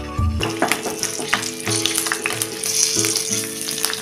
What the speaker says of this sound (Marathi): ही 1-1 मिरची आपण ह्यामध्ये अशी सोडून घेऊया। अशा करून ह्या आपण सगळ्या मिरच्या शॅलो फ्राय करून काढायच्या आहेत।